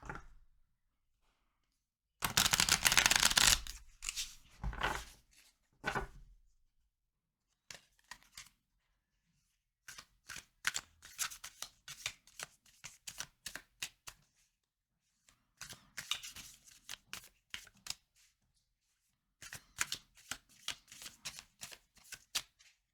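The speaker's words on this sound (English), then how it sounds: "Let's pull the tarot cards." Tarot cards are shuffled by hand: a loud, close riffling burst, then repeated bouts of rapid flicking and shuffling separated by short pauses, with no talking.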